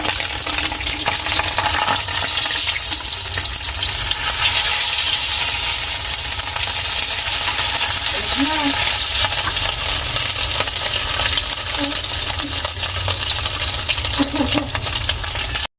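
Oil splatters and sizzles steadily in a pan while a corned beef omelette (tortang cornbeef) fries, a loud continuous hiss with occasional small clinks and pops.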